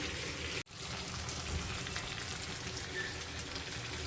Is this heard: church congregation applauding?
no